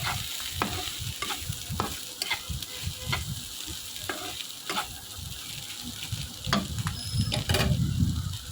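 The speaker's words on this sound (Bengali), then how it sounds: "এই যে ডিমগুলো দিয়ে ভালো করে নেড়ে চেড়ে এবার নামিয়ে নেব।" Potatoes and eggs stirred and fried together in a wok, close up, with repeated scraping strokes of a spatula over a steady oily sizzle.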